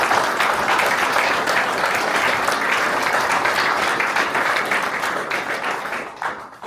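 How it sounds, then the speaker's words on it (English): A crowd claps at an Election Day gathering in Philadelphia, dense continuous applause that stays strong and thins slightly near the end. "So please, give yourself a round of applause"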